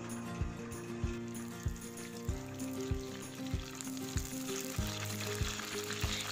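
Curry leaves drop into hot coconut oil for a Kerala prawn curry and crackle in a continuous sizzle. Regular soft thumps and knocks of a spoon against the pan come through close by, with no voice.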